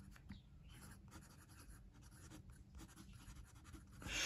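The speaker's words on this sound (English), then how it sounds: "let's see this Dasi pen here in action" Quiet, close scratching of a Dasi fountain pen nib moving across paper in short irregular strokes, soft and continuous with slight rustling.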